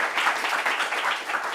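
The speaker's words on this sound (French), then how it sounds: "On va applaudir pour Madame Koné." An audience at a parents' meeting applauds together, a dense, steady wash of many hands clapping at moderate loudness without a break.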